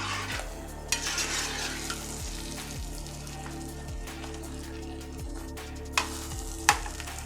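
Fenugreek lehyam being stirred in a pan, a soft bubbling sizzle broken by repeated scraping strokes of a spoon and a few sharp clinks against the pan, no talking.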